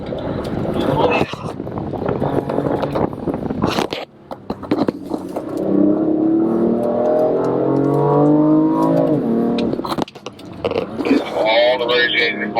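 A BMW M car accelerates hard around a race track under manual shifting, engine note rising in sweeping revs with a brief lift near the middle, loud and close, with voices talking over it.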